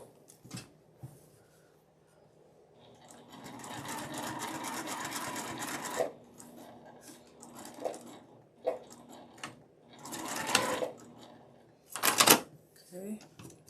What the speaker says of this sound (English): I'm going to do a back stitch and break thread